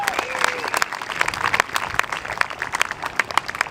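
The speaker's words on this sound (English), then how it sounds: "Let's give those students a big round of applause." Applause for concert band students at a spring school concert, a lively mix of clapping with cheers and a few whistles rising over the crowd.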